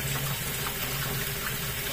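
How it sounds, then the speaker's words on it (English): Hot water pouring into cake mix from a baked bean tin, a steady continuous splashing gush with a faint hum beneath and no talking. "So you need some hot water in there."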